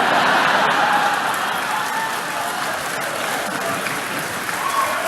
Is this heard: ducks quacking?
no